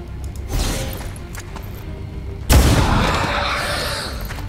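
Gunfire in the video game XCOM 2: one short burst of shots, then a louder, heavier blast that booms and rings out in a long decay, with game sounds around it.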